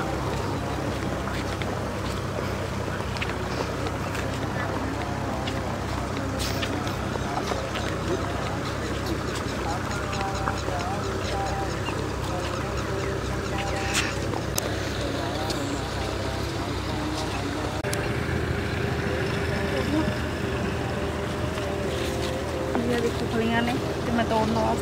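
A tractor puddles a flooded field to prepare it for transplanting paddy: a steady, distant engine drone runs throughout under people talking, with splashy water-vehicle character.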